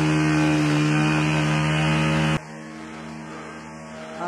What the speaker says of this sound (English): Somebody just started up his moped.